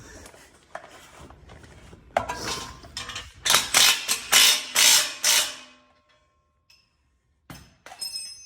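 A ratchet wrench tightens a bolt on a 4-link lift for a 2nd Gen Cummins truck, a run of loud, close ratcheting bursts in quick succession, with quieter clinks and shop noise before and after.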